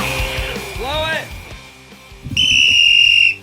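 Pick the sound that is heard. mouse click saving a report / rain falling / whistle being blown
whistle being blown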